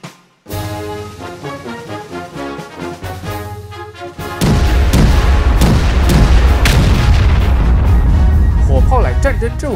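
Chinese rocket artillery firing, with heavy booms and blasts building into a dense, loud, continuous barrage of launches and explosions set against a musical score.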